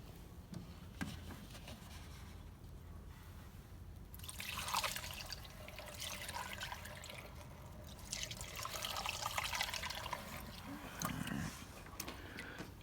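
Gasoline siphoned out of a 1979 Triumph 750 Bonneville motorcycle tank, a faint close trickle and dribble of liquid with swelling pours in the middle and toward the end.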